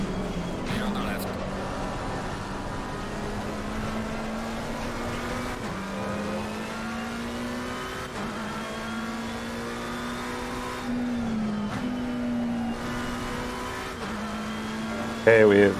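Race car engines drone steadily in a PS5 racing sim, with the pitch climbing and then dropping at each gear shift and other cars nearby, while a voice talks over the engine noise.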